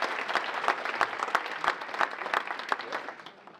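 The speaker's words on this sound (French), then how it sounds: "On peut déjà applaudir le jury principal." Audience applauding the main jury at a provincial gathering, a steady patter of many hands clapping together with sharper individual claps standing out, fairly close and without talk.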